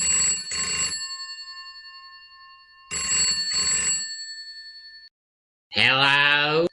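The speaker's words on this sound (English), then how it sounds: "that was my phone" A mobile phone rings in two separate chiming bursts with ringing tones that fade away between them, then a voice briefly cuts in near the end.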